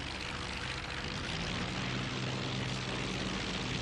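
Simulated Hawker Sea Fury piston engine during a carrier landing approach in the IL-2 1946 flight game: a loud, dense, continuous propeller-engine drone with a steady throbbing hum, close and unbroken, with no talking.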